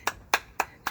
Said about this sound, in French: Il nous applaudit.